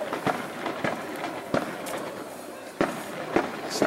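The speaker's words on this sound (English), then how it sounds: "There's definitely fireworks on the horizon." Sharp bangs pop at irregular intervals, several of them spread over a few seconds, distant and moderately loud over a steady outdoor hiss.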